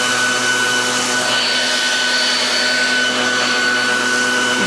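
A Kobalt leaf blower runs steadily at close range, a loud continuous whine with a sustained motor hum and no pauses or talk.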